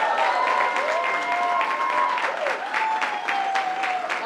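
An audience at a governor's event gives sustained applause, steady dense clapping lasting several seconds with some faint voices and cheers mixed in.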